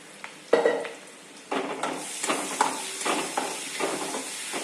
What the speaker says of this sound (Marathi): थोडंसं तेल घालते मी कारण मिरचीचा खेचा पूर्णपणे भाजला पाहिजे